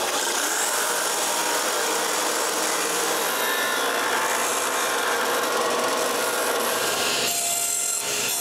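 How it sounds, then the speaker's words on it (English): Plywood being cut by hand to trim excess wood from traced round corners on pattern squares, a steady close rasping saw stroke sound running continuously, briefly easing near the end. "I cut two plywood squares to make my new patterns. After tracing some round corners, I remove the excess wood."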